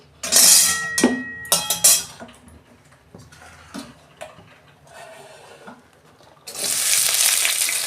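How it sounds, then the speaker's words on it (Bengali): Oil sizzles and crackles loudly in a wok as onion, ginger and garlic fry, with bursts of frying at the start and a steady hiss building up again near the end. "পেঁয়াজ, এই আদা রসুন সব একসঙ্গে আমি একটু ভেজে নেবো।"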